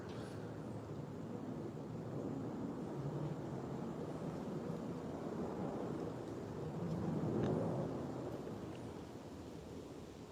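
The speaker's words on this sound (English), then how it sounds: "They're shutting me down with plane noise." Military training airplanes rumble overhead in a steady, faint, broad roar that swells slightly midway, with some wind noise and no talking.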